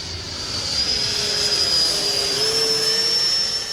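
A Freewing A-6 Intruder RC jet flies with flaps and landing gear down, its electric ducted fan giving a steady, loud high-pitched whine and airy roar that shifts slightly in pitch as it passes.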